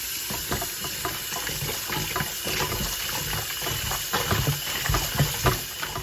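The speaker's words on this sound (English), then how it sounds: "We're gonna run cold water." Steady rush of cold tap water pouring into a sink to wash chicken, continuous and close, with splashy fluctuations and no talking.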